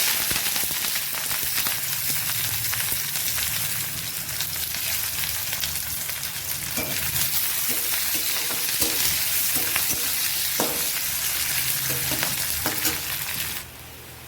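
Sliced onion sizzles and fries steadily in hot oil in a wok, with soft scraping from stirring throughout; the frying stays loud and close with no talking, then drops quieter near the end.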